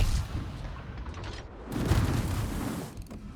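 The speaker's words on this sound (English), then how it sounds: "now he's finally shooting back at me" Enemy gunfire in a tank video game: deep booming shots and rumbling impacts roll through the battle, with a heavier blast about midway, all fairly muffled against the engine drone.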